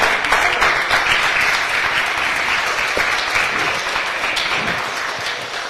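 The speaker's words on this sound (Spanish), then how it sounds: "quiero que todos le regalemos un fuerte aplauso, por favor, por ese esfuerzo" Audience applause at a book launch, a dense, steady wash of many hands clapping that holds for about six seconds with no talk over it, then eases slightly at the end.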